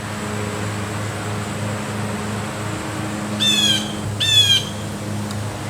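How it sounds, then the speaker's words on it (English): Two harsh, raspy blue jay squawks ring out close by in quick succession, each a short burst with layered harmonics, over a steady outdoor background hum with no talking. "I'm about ready to shoot a blue jay"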